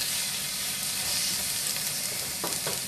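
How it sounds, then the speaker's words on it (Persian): Onions sautéing in oil in a pan over medium heat for a Gilan-style eggplant stew, giving a steady, close sizzle and crackle throughout with a couple of brief stirring scrapes near the end. "یک مقدار دیگه پیازا رو تفت میدیم"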